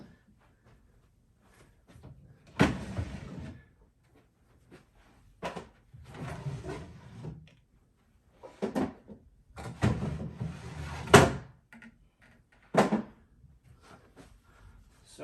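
Old wooden drawers of a twin pedestal desk slide open and shut in several separate bursts, each a scraping wooden rumble ending in a knock, close and fairly loud with quiet gaps between.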